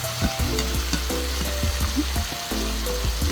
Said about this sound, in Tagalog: Yun ang halo-haloin lang natin to hanggang sa maluto.